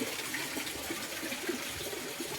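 Water runs continuously from a filter outlet back into a concrete fish pond planted with kangkong, a steady moderately loud splashing flow with no voices.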